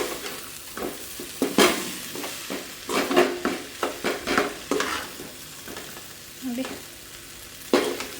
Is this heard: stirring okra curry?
yes